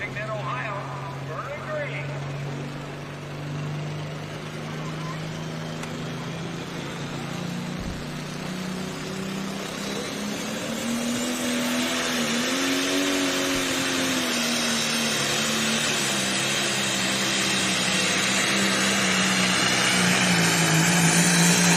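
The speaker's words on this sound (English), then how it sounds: "We usually see Jake Brickner doing the driving here of this tractor" A pro stock pulling tractor roars through a tractor pull run at an evening pulling event in Wellington, Ohio. The engine drones steadily and swells louder as the run goes on, with an announcer talking over it.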